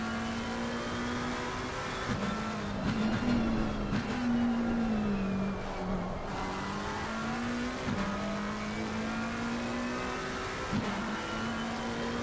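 Onboard engine of a McLaren GT3 race car in the Assetto Corsa Competizione racing game at Oulton Park, a loud continuous whine that rises and drops with gear shifts throughout, no voices.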